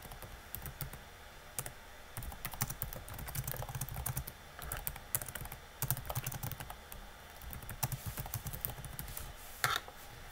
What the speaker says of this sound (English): after that you would just type in the name of your actual prompt